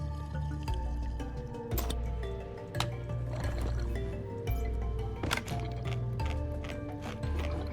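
Liquid gurgles and drips steadily as a tank fills with water in the video game Stationeers, a dense, continuous sloshing with brief pulses, close and alone.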